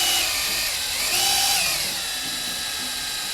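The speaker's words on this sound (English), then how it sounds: "See, I had to back off on that drill a little bit because it was getting too much of a vortex." An electric drill spins a stirring attachment through homemade wine to degas it, a steady high whine that swells briefly then eases as the speed is backed off, continuous and close with no talk.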